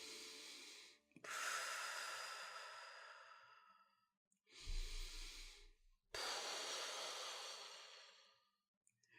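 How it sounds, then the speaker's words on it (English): A person takes slow, deep breaths, inhaling through the nose and exhaling through the mouth during a guided exercise, with several long, close, airy breath cycles separated by brief pauses. "Take a deep breath in through your nose and out through your mouth. Repeat, taking 2 more deep breaths in and out."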